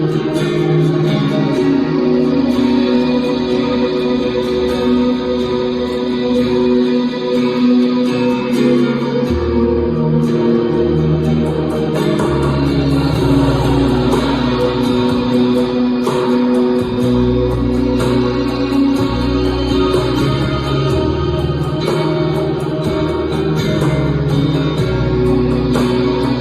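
A full mix of a track plays loud and steady, with drum kit, acoustic guitars, synth bass and Mellotron synth over a driving beat. No voices are heard.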